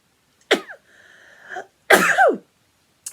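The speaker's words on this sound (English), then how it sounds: "I'm gonna sneeze." A single close, forceful sneeze, preceded by a short sharp intake and a brief wavering breathy sound, then quiet.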